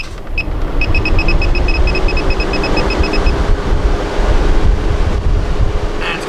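A roof ventilation fan in a camper van running at full speed gives off a steady, loud broadband whoosh of rushing air. A quick run of short electronic beeps sounds near the start.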